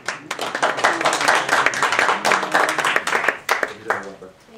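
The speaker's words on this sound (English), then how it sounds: "Nice that you got an applause." Brief burst of clapping from a few people in a state House rules committee meeting room, close and uneven, with voices talking over it.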